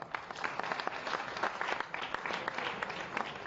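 An audience claps in dense, sustained applause at a public event in Rajasthan honouring the Chief Minister. The clapping is a steady, even roar lasting throughout, with no talk over it.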